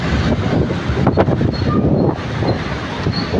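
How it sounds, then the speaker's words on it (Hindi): Strong, gusty wind in stormy weather outdoors in Peshawar buffets the microphone with a loud, continuous roar, swelling in the middle and easing slightly toward the end. "ओहो इतनी हवा तेज हवा है।"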